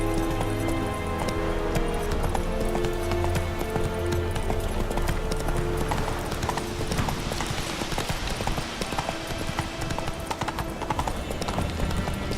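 Rapid, steady clip-clop of a horse's hooves galloping, Roach in Witcher 3, loud and close throughout, with rhythmic thuds layered over game ambience and no clear talk.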